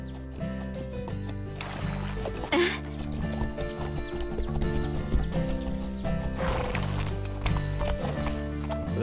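Horse hooves clip-clop in a rhythmic series of clear, close strikes, heard with a whinny and over a busy music-and-effects background from an animated show.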